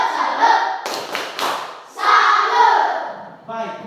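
A classroom of children at a Catholic school in Merauke does the tepuk salut clapping chant, with several sharp rhythmic claps between bursts of chanting voices, close and fairly loud.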